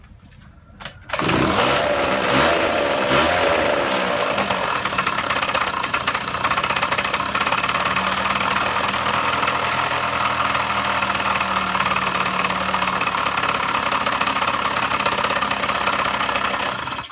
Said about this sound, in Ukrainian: Скутер почав заводитися, але щось почало тарабанити.